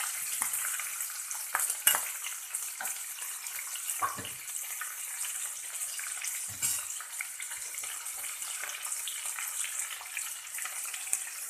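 A steady, bright sizzle of chopped onion frying in hot oil in a pan with star anise, for a veg pulao, close and continuous with a few stirring scrapes and clinks.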